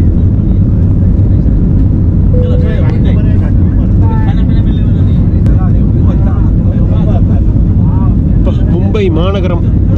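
A passenger jet on a night departure from Mumbai to Hanoi roars with a loud, continuous low cabin rumble, while voices talk over it throughout.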